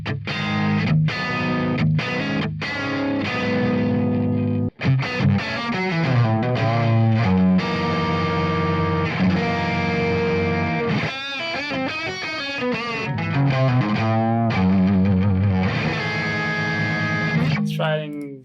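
A Fender Stratocaster runs through a BIAS Amp 2 amp at lower gain, playing a lively, continuous lead-and-chord passage with a slightly driven tone, loud and steady, ending with a short squeal.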